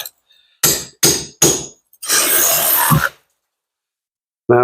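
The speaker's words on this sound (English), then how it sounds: "this blade is a masonry cutting blade, and it's just cut through that stock brick to make that perp wider" A masonry cutting blade slices through a stock brick to widen a perpend joint: three short loud rasping bursts, then a longer sustained grinding cut lasting about a second, close and alone, with a brief start of another sound at the end.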